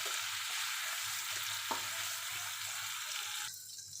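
Prawns fry in oil in a wok with a steady, moderately quiet hissing sizzle, a low hum beneath and occasional faint stirring knocks, softening slightly at the end.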